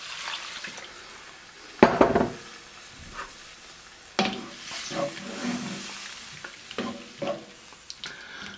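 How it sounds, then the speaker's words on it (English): Beef broth poured into a sizzling pan for Swiss steak gives a sharp burst of hissing, then a steady sizzle with stirring and scattered clinks of a utensil against the pan. "And we're just going to add our beef broth."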